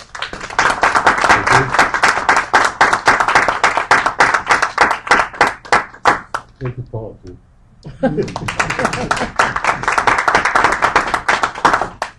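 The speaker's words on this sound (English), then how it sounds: "let's give Larry a big round of thank you applause" An audience at a union history class gives sustained thank-you applause, dense steady clapping that thins and pauses midway while someone speaks briefly, then swells again and continues to the end.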